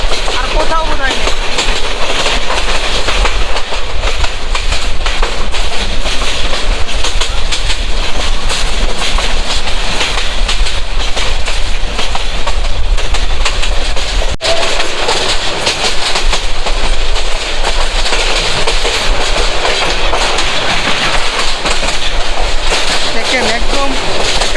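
The Mohanganj Express rolls along its tracks in the countryside near Netrokona, a loud, steady rumble with rhythmic clickety-clack of wheels heard from on board, with a voice talking over it.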